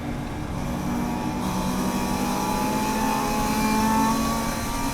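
A race car engine drones continuously from inside the cabin during a Gridlife GLTC race at Lime Rock Park, holding steady revs with a slight rise and fall through a restart, loud and unbroken with no talk.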